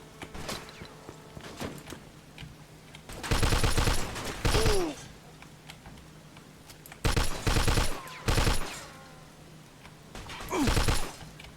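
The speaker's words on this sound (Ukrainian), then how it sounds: "О, постріли почалися." Bursts of gunfire in the video game Mafia 2, Jimmy's Vendetta DLC: several loud rapid volleys a few seconds apart, each a dense cluster of shots, with quieter ambient game sound between them.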